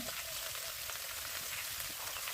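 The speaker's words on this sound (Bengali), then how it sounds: "তেল গরম হয়ে গেছে এবার ফুলকপি আর বেগুনটা তেলের মধ্যে দিয়ে দিলাম" Cauliflower and eggplant fry in hot oil over a clay pipe stove, a continuous soft crackling sizzle with no talking.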